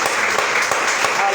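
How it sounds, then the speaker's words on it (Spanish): A church congregation gives a loud, sustained round of applause during a Spanish-language sermon, a thick wash of clapping hands throughout with no pause. "Dale un fuerte aplauso a Cristo"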